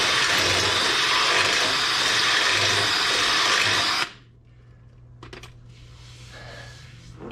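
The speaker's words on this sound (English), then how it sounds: "Sometimes you got to put it on the 1 setting to get more torque out of that drill bit." Power drill boring into metal while working on a 1966 Chevy C10 during a power steering install, a steady loud whine for about four seconds that cuts off abruptly, followed by quieter workshop clatter and a low hum.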